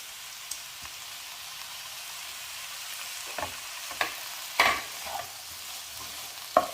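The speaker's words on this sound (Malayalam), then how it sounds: "ഇതെല്ലാം കൂടി ഒന്ന് മിക്സ് ചെയ്യാം." Washed rice being stirred into masala paste in a hot pan, soft sizzling underneath with a few sharp scraping and clinking strokes of a spoon, quiet and close, no talking.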